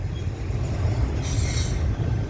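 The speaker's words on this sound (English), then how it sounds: "Two trains going by each other on Herington Sub" Two freight trains pass each other on the Herington Sub near Hutchinson, one on the siding and one on the main, giving a steady loud rumble of railcars with a brief high wheel squeal partway through.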